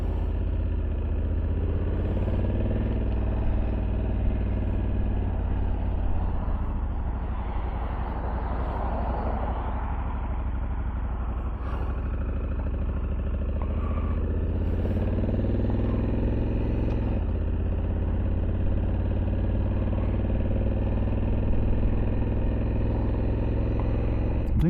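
A 2023 Honda Africa Twin CRF1100L DCT Adventure Sports motorcycle with an aftermarket exhaust pipe runs with a continuous deep engine rumble. The drone is steady and close, with slight swells in pitch and no talking.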